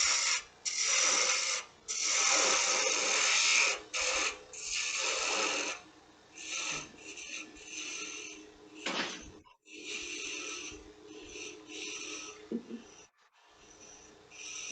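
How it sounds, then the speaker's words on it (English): Sandpaper rubbing against a spinning wooden piece on a woodturning lathe, giving a close, loud, steady hiss that breaks into repeated bursts and pauses as the paper is pressed on and lifted off. "Sandpaper will help clean that up a little bit."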